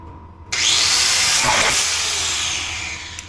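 A cutting tool slices through a rusty exhaust muffler hanger under a Ford F-150 pickup, a loud, sustained harsh hiss and grind that starts abruptly and carries on at close range.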